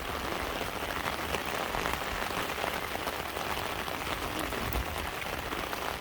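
Steady rain falls at noon over rice fields, a dense, even hiss of drops hitting surfaces that continues without a break, close and fairly loud.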